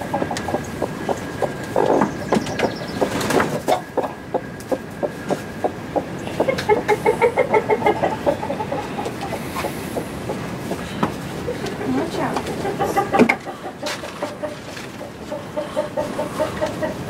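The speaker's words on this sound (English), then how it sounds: "This is our broody hen." A broody hen gives a steady run of short, rhythmic clucks, close and fairly loud, repeating throughout with no speech.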